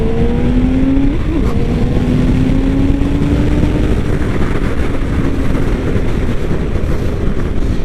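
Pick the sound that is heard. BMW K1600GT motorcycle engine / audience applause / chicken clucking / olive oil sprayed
BMW K1600GT motorcycle engine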